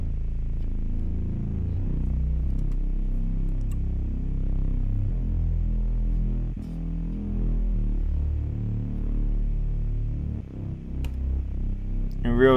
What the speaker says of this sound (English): Really, it's just detuned saw waves with a low pass filter right there.